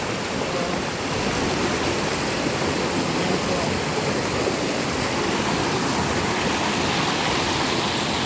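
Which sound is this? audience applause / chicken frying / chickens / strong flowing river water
strong flowing river water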